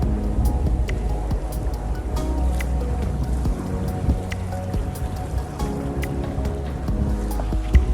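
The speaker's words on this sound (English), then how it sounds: "There's a boat that just passed, and what we're hearing" A steady wash of engine rumble and water churning, like a boat going by, with spattering droplets throughout and no voices.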